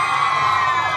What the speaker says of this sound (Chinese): 掌声鼓励一下好不好？